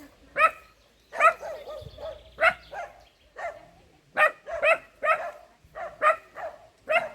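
Abandoned dogs, a mother and her puppy in a village, bark and yip in short, repeated bursts nearby, with a few whimpering notes between barks and no people talking.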